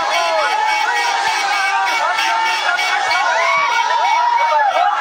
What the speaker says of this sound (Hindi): दोस्तों, इतनी भीड़ वहां पे जमा हो गई है सिर्फ अपने पवन सिंह जी को देखने के लिए